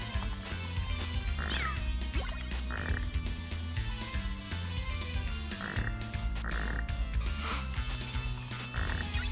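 Frogs croak repeatedly in a Castlevania: Rondo of Blood stage, short croaks recurring over loud, continuous game music with no talking.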